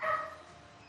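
Puppies bark and yip loudly close by in a brief high-pitched burst that fades quickly.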